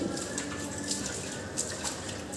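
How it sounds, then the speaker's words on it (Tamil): Water sprinkled by hand onto potted flower plants at a home doorway in the early morning, heard as a continuous close splashing hiss with scattered droplet patter and no voices. "இப்போ நான் வாசல் தெளிச்சுட்டு பூச்செடிக்கெல்லாம் தண்ணியும் தெளித்து விட்டுட்ருக்கேன்"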